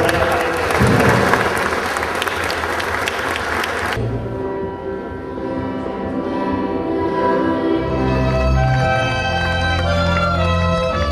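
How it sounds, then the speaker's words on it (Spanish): Guests clapping at a civil wedding ceremony, dense loud applause for the first few seconds that gives way to a quieter stretch with voices and room sounds. "Aplausos, por favor, para esta"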